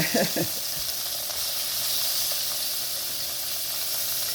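Flour browns in a pan for red chile, giving a soft, steady sizzle and hiss that runs throughout, with a few quick clinks of stirring at the start.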